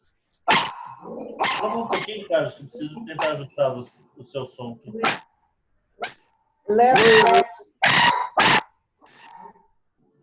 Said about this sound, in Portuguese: O que é isso, gente? É uma araponga? É um cachorro.